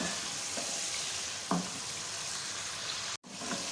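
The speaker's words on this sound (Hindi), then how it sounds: "चिकन को अच्छी तरह से फ्राई करें।" Chicken frying in a pan for a chicken salan, a steady broadband sizzle with a couple of brief stirring scrapes and a short drop near the end.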